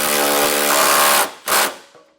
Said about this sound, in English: Now we'll start tightening down our larger nuts.